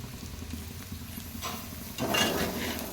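Chicken frying in a pan with curry leaves, giving a soft sizzle and brief stirring scrapes that swell louder toward the end of the short stretch, with no voices.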